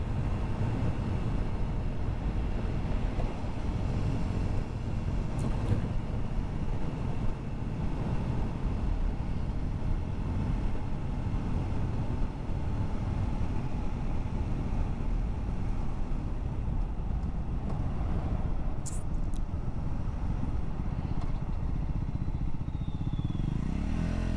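A Triumph Scrambler 400 motorcycle on a sunny demo ride hums with a steady close engine drone and wind rush, continuous and even, with occasional small clicks and a brief whistle-like sweep near the end.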